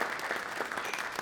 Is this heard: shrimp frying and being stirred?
no